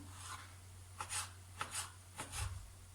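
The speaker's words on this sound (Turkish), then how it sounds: "Şöyle sucuklardan minik minik doğrayacağım" Faint, quiet knife cuts on a board, sausage chopped into small pieces, about five soft chops at an uneven pace over a low steady hum.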